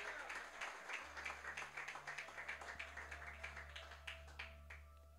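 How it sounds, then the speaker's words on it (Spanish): A church congregation claps in unison during a worship service, a steady, quick rhythmic beat of hands over a low constant hum, fairly quiet and even throughout. "Dele fuerte las palmas al que vive,"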